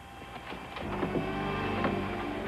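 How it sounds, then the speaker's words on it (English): A steady mechanical whir with a motor-like drone, moderately loud and continuous, with a few faint higher whines over it. "It sounds like a vacuum, like someone's vacuuming"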